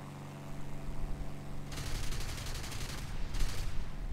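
A Me 410 aircraft's cannons fire in long rapid bursts at anti-aircraft trucks in War Thunder, loud rattling strafing runs over a droning engine, with a short pause between the two bursts.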